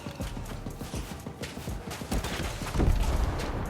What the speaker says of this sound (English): We got some more guys shooting at us.